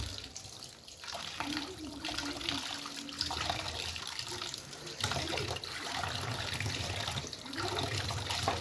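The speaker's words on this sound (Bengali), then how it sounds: "মাছগুলো ধুয়ে নিই ভালো করে" Fish being washed under a running kitchen tap in a village home, a steady broadband rush of water with splashing and handling noises throughout, some faint voices in the background.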